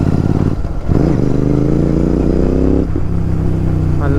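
A motorcycle engine runs steadily and loudly up close, with the pitch sagging briefly and then holding at a rumbling idle or low rev, and a brief throttle blip near the start.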